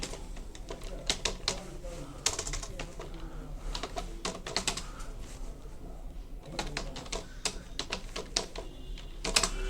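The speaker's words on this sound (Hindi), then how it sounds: "जैसे कि हम कुछ भी टाइप कर लेते हैं" Typing on a computer keyboard, with clusters of sharp, close key clicks coming in irregular bursts and short pauses, under steady background hum and occasional birdsong.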